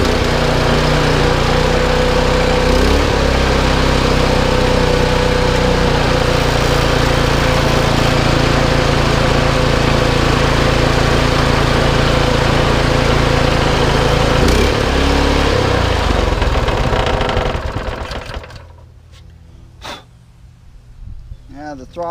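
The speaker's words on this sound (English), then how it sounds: "these old Hondas, they usually run on just about anything, so we'll give it a shot again and see what happens." An old Honda GX200 small engine runs loud and steady with a rough, throttle-hunting drone for most of the stretch, then cuts out near the end, leaving a quieter tail.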